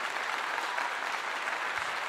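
Steady applause from a room of people at a college football post-game press conference after a win, dense continuous clapping held at an even level throughout.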